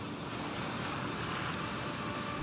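Steady ocean surf rolls onto a beach where turtle hatchlings head for the water, a continuous broadband wash with some wind noise and no voices.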